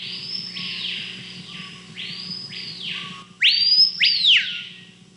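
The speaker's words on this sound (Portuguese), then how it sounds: "Lipaulus vociferans, que é o nome científico, né? Ou assobiador, e que é a voz da Amazônia" A loud, ringing whistled call of a screaming piha (Lipaugus vociferans), an Amazonian bird, repeats in rising and falling swoops over a low steady hum, growing louder and sharper toward the end.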